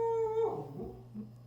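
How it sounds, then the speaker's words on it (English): A pet dog howls once, a long steady wail that breaks into a falling whimper, close and fairly quiet, in a home studio. "That's our dog, Finn, by the way."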